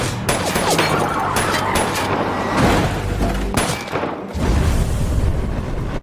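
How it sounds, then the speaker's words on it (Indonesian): Gunfire in a film shootout scene, with repeated loud shots and booming blasts in dense bursts, one heavy impact partway through, all close and sustained over a continuous rumble. "Dan baku tembak pun kembali terjadi."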